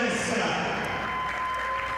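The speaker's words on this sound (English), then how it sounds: "they get a standing ovation from this crowd here at Corbett Sports Center" A basketball crowd at a women's college game at Corbett Sports Center gives a standing ovation, broad steady applause and cheering filling the arena at even loudness throughout, with an announcer talking over it.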